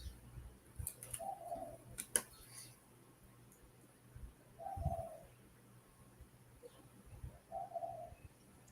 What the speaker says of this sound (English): the birds are going for it right now